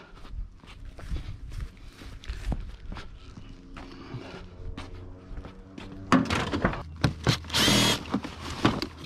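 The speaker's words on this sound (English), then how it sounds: "I get the drill." A power drill runs in short bursts during curbside scrap collection, mixed with footsteps and handling clatter, growing louder and busier toward the end.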